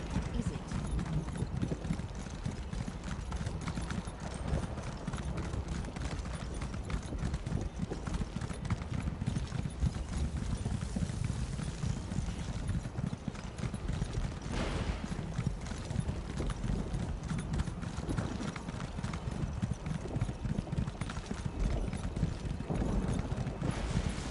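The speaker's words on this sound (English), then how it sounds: "Let's get on my, glowy ass horse and ride." Horse hooves galloping in a video game's deadlands setting, a steady rapid clip-clop that runs continuously and fairly loud for the whole stretch over a dense game soundscape.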